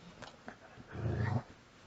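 A dog gives a short, low growl at close range, with a few soft snorts and huffs just before it, then falls quiet.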